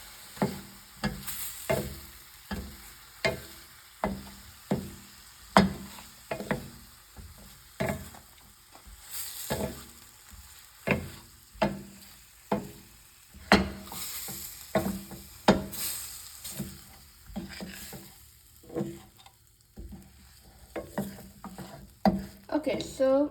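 Mushrooms stir-fried with spices in a pan, the spoon scraping in steady repeated strokes about once a second over a soft sizzle, close and clear with no talking.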